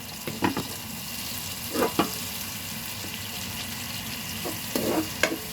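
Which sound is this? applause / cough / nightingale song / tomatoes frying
tomatoes frying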